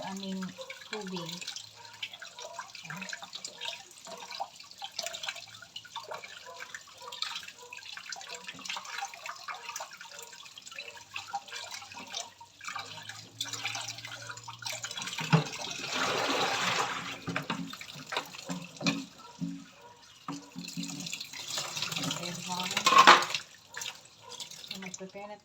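Tap water running into a kitchen sink, with faint splashes and drips at first, then louder streams gushing in bursts, alongside clinks of handling and quiet talk in the background.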